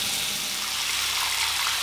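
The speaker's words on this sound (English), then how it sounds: "I'm going to fill up the sink with water" Tap water running steadily into a bathroom sink as it fills for a wet shave, a constant close rushing splash with no breaks and no talk.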